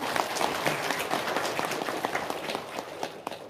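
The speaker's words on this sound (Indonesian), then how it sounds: "Tepuk tangan dulu dong." An audience at an Islamic religious talk claps, and the dense patter of hands holds steady throughout without fading.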